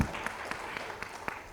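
Applause from an audience at the inaugural session of an education and skilling event in Gujarat, a steady wash of clapping with scattered louder claps, moderately distant and without speech over it.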